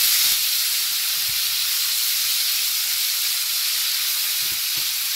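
Schezwan sauce sautés in a pan for fried rice, a loud continuous hissing sizzle that holds steady throughout with a few faint knocks underneath, close up and alone.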